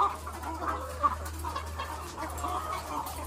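Chickens on a small farm raising RTL (Rhode Island Red) layers cluck softly and repeatedly nearby over a constant low mechanical hum.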